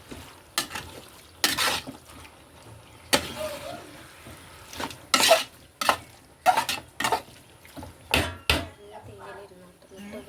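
Repeated scraping and clattering of a utensil stirring food in a pan, in irregular bursts over a soft background sizzle.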